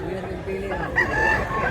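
A rooster at a Mantalungon, Cebu poultry market crows once, a loud nearby call rising midway, with voices talking underneath.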